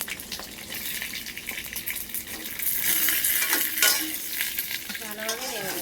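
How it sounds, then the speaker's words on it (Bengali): Food with mango frying in a pan while it is stirred, a loud steady sizzle with scraping strokes that swell midway, close up and without talk. "ভালোভাবে নেড়ে নেব।"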